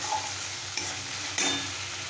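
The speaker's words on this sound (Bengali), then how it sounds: "এই যে মশলাটাকে ভালো করে কষিয়ে নেব" Spice paste for a singi fish curry with potatoes sizzling in a pan as it is sautéed, a steady hiss broken by two scraping stirs of the spoon, with no talking.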